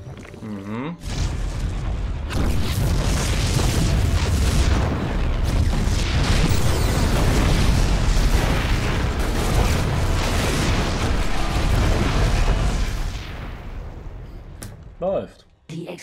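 A long barrage of heavy booming explosions in StarCraft 2: Heart of the Swarm, dense and continuous battle effects, which cuts off and leaves a quiet tail with a short voice.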